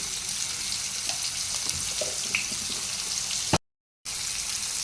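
Onion and fenugreek leaves fry in a pan with a steady, hissing sizzle that fills the whole stretch at close range, broken by a brief click and a short silent gap near the end.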